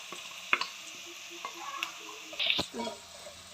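Chopped coconut pieces frying with onions and curry leaves in a pan for chicken curry, a soft steady sizzle broken by a few sharp clinks and scrapes of stirring.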